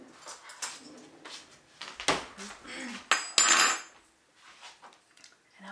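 A spoon clinks and scrapes against dishes in a home kitchen during freezer-meal prep with honey, sounding as irregular close metallic knocks and rattles, some sharp and loud, separated by short quiet gaps.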